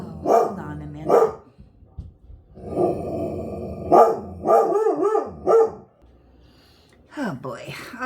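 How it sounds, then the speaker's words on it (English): An indoor dog barks in loud bursts, several sharp barks spread across a few seconds with short gaps, and a person talks in between and over them. "As you can tell, she's got her woof woof back."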